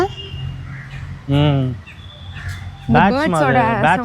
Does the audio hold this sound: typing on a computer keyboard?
no